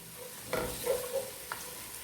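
Spices for Arabic-style chicken mandi sizzle in a pan and are stirred, with a few soft scrapes against the quiet frying hiss, no voices.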